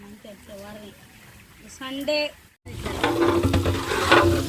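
Onions frying in a pan until light brown: a steady crackling sizzle with stirring that comes in abruptly after a brief silence, following a stretch of high chirping calls at the start.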